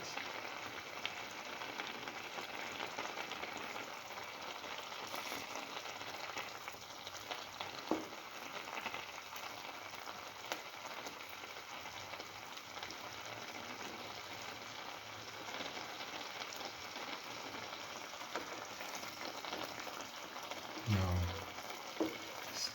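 Soft, steady bubbling and crackle of an egg, milk and coconut stew mixture cooking in a pan, faint and continuous, with a brief low knock near the end.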